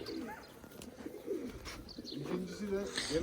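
Pigeons in an İzmir fancier's loft give low, murmuring coos and a few chirps, fairly quiet, while someone talks nearby.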